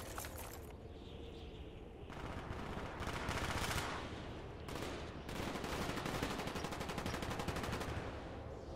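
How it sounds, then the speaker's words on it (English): A Call of Duty Black Ops firefight rumbles in a dense, continuous wash of gunfire, shots blurring into a thick roar that swells and dips, distant-sounding and fairly quiet overall. "Oh, I see you guys having a firefight"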